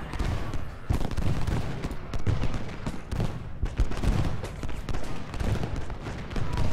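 Massed musket volleys and cannon fire from an Ultimate General Gettysburg battle, dense and continuous with sharp cracks and booming blasts overlapping at a loud, steady level.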